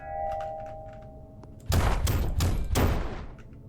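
Gunfire in the video game Disjunction: after a quiet humming lead-in, a burst of several heavy, booming shots rings out close and loud in rapid succession, then fades.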